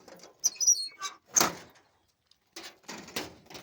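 A pigeon coop is opened with pigeons inside: a few close, sharp clatters and scrapes from the door come in short bursts. A quiet pause follows before more rattling, with faint bird sounds mixed in.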